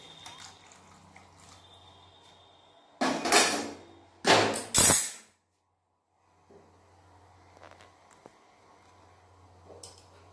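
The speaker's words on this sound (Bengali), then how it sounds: "এতে দিয়ে দিলাম গরম জল।" Hot water poured into a pot of fried spices for rohu fish curry, two loud bursts of hissing, splashing sizzle in close succession, then near silence and faint low bubbling afterwards.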